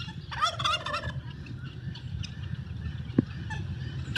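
A farm turkey gobbles once, a quick rattling burst, against quiet outdoor background noise, followed by a sharp click.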